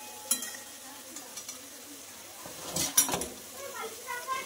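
Potatoes frying in a pan beside other cooking, with a low sizzle and a few light scrapes and clinks of a utensil in the pan, soft and close, with a voice now and then.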